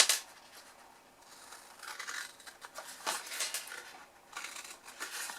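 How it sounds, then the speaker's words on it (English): Scissors cut paper shapes for a botanical butterfly box, giving a few soft, close snips and crisp rustling scrapes in short bursts, faint and without talk. "On that same side, we're going to cut away these 2 top squares here."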